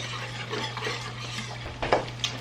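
Homemade gravy for biscuits and gravy is stirred in a pan, producing soft scraping strokes over a low steady hum, with a few sharper clinks toward the end.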